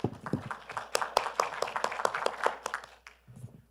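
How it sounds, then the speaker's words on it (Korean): Applause for a speaker at a Korean metaverse and future-generation forum, a light, brief round of scattered hand claps from a modest audience, fairly faint, fading out at the end. "우리 따뜻한 박수로"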